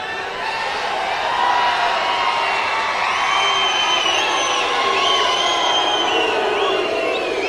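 A large crowd at a political speech rally in India keeps up a dense, steady roar of shouting, whoops and cheering, loud and continuous throughout with no single voice standing out.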